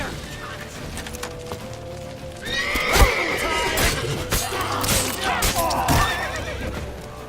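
A horse whinnies loudly in The Witcher 3 amid clip-clopping hooves and busy game action, with a voice speaking over the scene.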